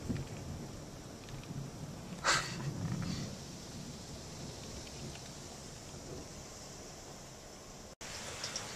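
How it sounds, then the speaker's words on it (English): Steady rain falls outdoors during a summer trim day, a soft continuous hiss heard close with faint wind. One brief louder splash or knock comes partway through. "Alright, well, it's still raining."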